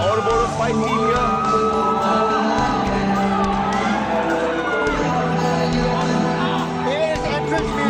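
Loud arena crowd roaring and whooping continuously as a semi-pro flyweight MMA fighter makes his entrance, with entrance music and dense crowd noise filling the hall.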